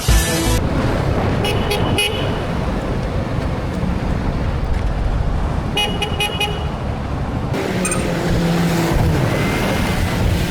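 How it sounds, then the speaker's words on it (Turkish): A CFMoto motorcycle horn blares in short repeated toots over loud, steady engine and road noise. "Korna çalıyorum görmüyorsun abi"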